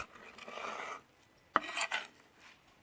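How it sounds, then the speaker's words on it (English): A knife slicing fresh cod fillets into roughly one-inch strips on a board, with two short bursts of cutting and scraping separated by a quiet gap, close and moderately soft. "we start by taking some fresh cod fillets and cutting them into approximately 1-inch strips"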